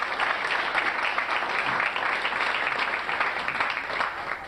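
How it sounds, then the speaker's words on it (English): A crowd at a fraternity chapter's 25th anniversary and Founders Day gathering claps for a committee coordinator, a dense, steady wash of many hands that continues evenly for several seconds. "I think we should give him a round of applause"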